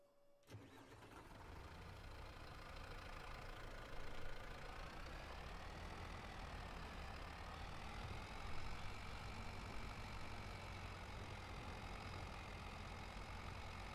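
A 90-horsepower tractor engine in Farming Simulator starts up, then runs at a steady, loud drone with a slight rise and fall in pitch as it works a field.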